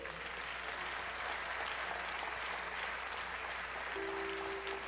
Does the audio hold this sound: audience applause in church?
yes